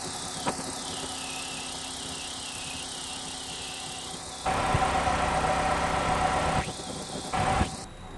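A 2006 Chevy HHR engine idles to warm up after an oil change and motor flush, a steady close hum with a faint squeal. A louder broadband hiss swells partway through, then fades.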